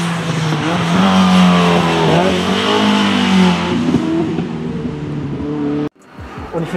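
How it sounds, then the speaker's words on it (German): A historic rally car races hard, its engine loud and close with rising and falling revs through gear changes, then cutting off abruptly before a brief return of engine noise. "Ich kann euch vielleicht mal Videosequenzen einblenden von dem Rallye-Auto"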